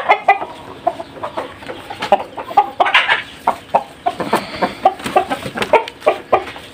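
Farm hens cluck close by in a steady run of short, repeated calls, several birds overlapping in quick irregular bursts with no talking.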